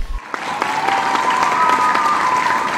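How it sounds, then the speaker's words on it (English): Applause sound effect, a steady, even clapping crowd with some cheering, continuous for about three seconds. "Do we have an applause track?"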